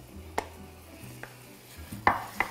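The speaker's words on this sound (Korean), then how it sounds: "달궈져서 볶겠습니다, 무를." Radish being stir-fried in oil in a pan over medium heat, with a few sparse scrapes and clinks of a utensil against the pan over a low background, no talking.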